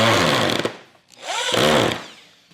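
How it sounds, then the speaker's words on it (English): A Hyper Tough corded drill drives a 3-inch screw into solid dimensional lumber. The motor whines and labors loudly in two close bursts, dropping briefly between them, with the pitch sagging under load. "Let's see if this hyper tough drill will drive this 3" screw through this 3 inches of solid"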